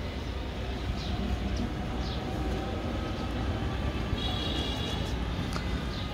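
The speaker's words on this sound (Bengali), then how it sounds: "আপনারা দেখতে পাচ্ছেন টেক আপ হয়ে গেল আকাশের দিকে।" An ATR turboprop airplane takes off at an airport, its engines making a loud, steady, broad roar that holds constant without any talking.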